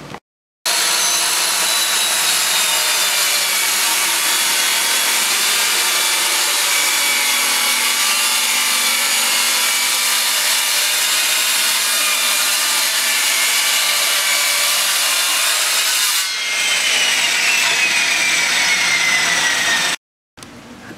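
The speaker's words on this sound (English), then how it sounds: "Now we'll cut our shelves, our top and the bottom, and our shelves all out of the other piece of plywood." A handheld circular saw cuts plywood shelves for a bookcase, a loud continuous whining rip with the blade biting through the wood, pausing briefly before a second cut begins, with no talking.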